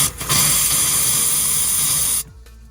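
Compressed air hisses in a loud, steady rush through RV water lines during winterizing and then cuts off abruptly near the end, leaving faint background noise.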